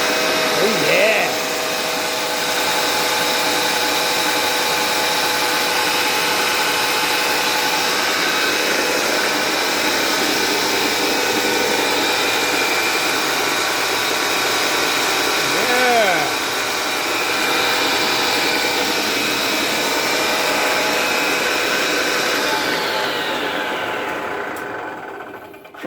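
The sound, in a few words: homemade dedicated dado table saw running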